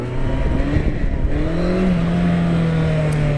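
A Honda CB1100 motorcycle engine pulls hard as the rider accelerates out of a wheelie, a steady loud droning note rising and settling with no voices over it.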